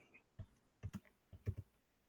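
Half a dozen quiet, crisp keystrokes on a computer keyboard, clustered in short bursts, as someone types a search phrase into Google.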